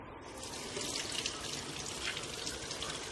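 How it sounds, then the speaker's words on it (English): Steady running tap water splashes into a sink as a potato is rinsed under the stream, a constant hiss and splatter heard up close for a few seconds, with no talking. "We're gonna wash it."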